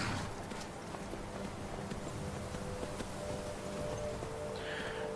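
A horse's hooves beat in a quick, regular clip-clop while riding in the video game Skyrim, steady and moderately loud over a constant outdoor ambience, with no talking.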